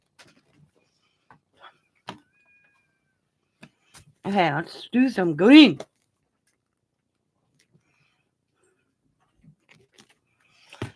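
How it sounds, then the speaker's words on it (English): Pet cats indoors in a home craft room let out a quick run of loud, wavering meows, three or four in a row, amid near silence broken by faint taps and a brief spoken remark. "Do you hear my cats?"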